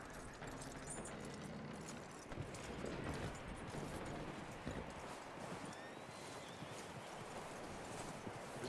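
In Red Dead Redemption 2, a horse's hooves clip-clop at a steady walk over soft outdoor ground, moderately close, with faint rustling behind and no speech.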